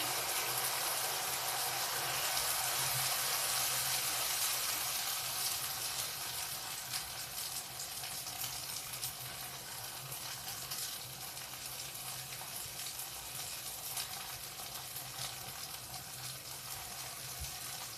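Zucchini pancake batter fries in a pan over medium heat, a steady, dense sizzle and crackle that holds evenly throughout with no talking.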